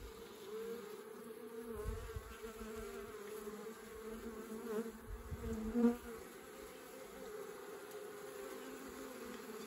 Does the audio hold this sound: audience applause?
no